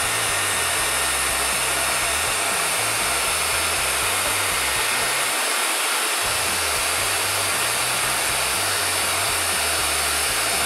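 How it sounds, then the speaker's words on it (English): Heat gun running on its low setting to shrink Monokote covering on a balsa wing; a steady, loud broadband blowing hiss with a low fan rumble, continuous throughout with no talking. "take the heat gun, heat up the middle, and that should shrink it and cause it to tighten up"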